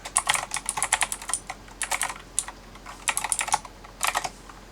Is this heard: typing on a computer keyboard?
yes